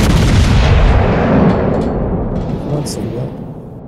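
Heavy naval cannons fire a broadside in a warship battle game, a loud booming blast at the start that rolls off into a long fading rumble, with voices talking over it.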